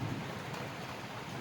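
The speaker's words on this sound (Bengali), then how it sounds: "জোর বৃষ্টি হচ্ছে" Heavy rain pouring down outside, a dense continuous roar of falling water with a low rumble, steady and fairly loud.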